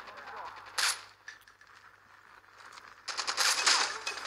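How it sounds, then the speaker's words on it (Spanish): Bursts of rapid gunfire from Call of Duty Mobile multiplayer: a short volley, a quieter stretch, then a longer sustained burst of shots near the end. "Escucho disparos"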